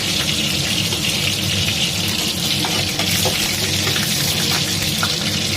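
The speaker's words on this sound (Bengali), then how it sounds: "পটলগুলোকে ভালো করে ভেজে নিলাম।" Pointed gourd coated with turmeric and salt frying in oil, a loud dense continuous sizzle with crackling, close and unbroken throughout.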